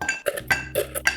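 Ice cubes for a reposado tequila cocktail are struck and cracked, a quick series of sharp, close clinks and snaps in an uneven rhythm with no voices.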